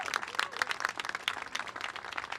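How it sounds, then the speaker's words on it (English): An audience applauding at a restaurant opening, scattered quick claps forming a soft, fairly distant patter throughout, with no voices. "Let's give them a big round of applause."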